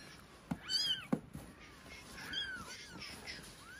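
A domestic cat meows indoors, two or three rising, wavering cries close by at moderate volume, with a quiet gap between them.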